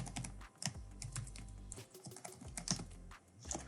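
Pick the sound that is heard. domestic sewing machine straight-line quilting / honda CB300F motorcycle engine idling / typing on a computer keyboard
typing on a computer keyboard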